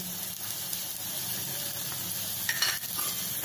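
Oil tempering sizzles steadily in a pan with turmeric, chilli paste and a small pinch of asafoetida, with a soft stir and a brief brighter crackle near the end, no talk.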